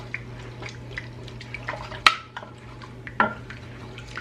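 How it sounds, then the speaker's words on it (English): A metal spoon stirs bone broth in a cooking pot, soft liquid swishing punctuated by two sharp clinks against the pot's side, close-up, over a steady low kitchen hum. "I'm going to add about a cup of my bone broth that I got here. And just stir that up."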